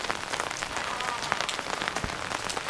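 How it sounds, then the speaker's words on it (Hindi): Heavy rain pours steadily in the mountains of Mukteshwar, a dense, continuous hiss of drops drumming on surfaces close by, with no break across the whole stretch. "नहीं बारिश बहुत है।"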